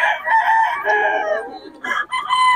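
A gray hatch rooster at a market crows loudly and close, a long ragged call followed by shorter clucking bursts.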